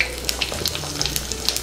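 Cumin seeds hitting hot oil in a pan after cashews were fried, giving a soft, steady sizzle with small crackling pops scattered through it, close and fairly quiet.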